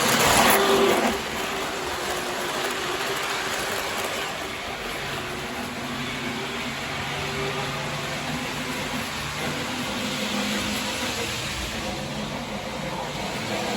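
An O-gauge model freight train runs around its track, a steady rolling hiss and faint mechanical hum continuing evenly and fairly close after a brief louder onset.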